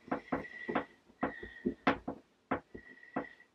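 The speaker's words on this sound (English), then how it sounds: "You can hear my desk squeaking away." A wall-mounted desk squeaks in three drawn-out, high-pitched bursts, each mixed with dull knocks and creaks, close and fairly quiet.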